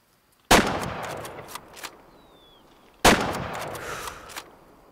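Two sharp rifle shots, about two and a half seconds apart, are fired at a black bear in a hunting video game, each a loud crack followed by a fading echoing tail over quiet surroundings.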